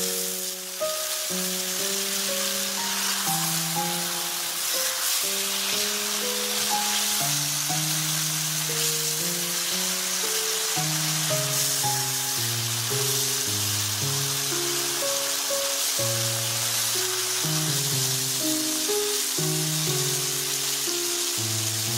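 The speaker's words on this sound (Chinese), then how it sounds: "开小火慢烧，用筷子不时的翻面。" Hairtail fish simmering over low heat in a sweet and sour sauce, a continuous close bubbling sizzle that stays even throughout, with soft background music playing over it.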